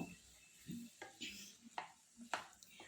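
Ridge gourd and potato pieces are stirred and sautéed in a pan: a faint, soft sizzle under several quiet scrapes and knocks of a spoon, spaced roughly every half second.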